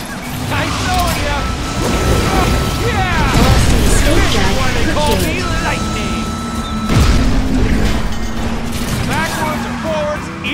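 Targets being destroyed in the Cars 2 video game, with booming crashes and whooshing weapon effects over racing engine noise, while a character's voice talks over the action.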